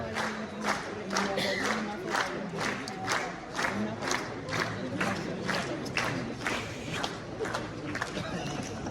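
Audience at a film premiere applauding and cheering, a dense wash of clapping and crowd noise with rhythmic surges roughly every half second, steady and fairly loud throughout.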